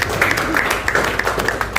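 Applause from the audience at a film press conference, light scattered clapping with sharp individual claps over a low background hum, moderately close.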